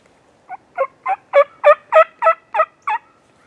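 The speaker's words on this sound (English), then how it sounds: "as this bird started to heat up and gobble" A wild turkey tom gobbles in a field, one loud rapid rattling gobble of about nine pulses that swells in the middle and then fades, heard alone against a silent background.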